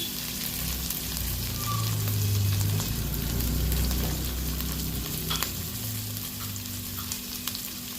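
Noodles fry in a pan with a steady, dense sizzle that stays close and loud from start to finish, with faint scraping from stirring underneath.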